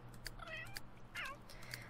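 A cat in The Sims 3 gives two or three soft meows among faint clicking sounds, quiet and close.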